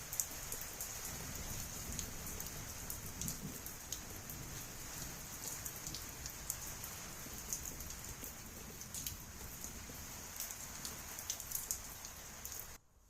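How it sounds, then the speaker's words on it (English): Heavy rain falls on wheat fields shortly before harvest, a dense, constant patter and hiss that holds steady throughout with scattered sharper drop hits. No voices are heard. "it was about an hour of rain"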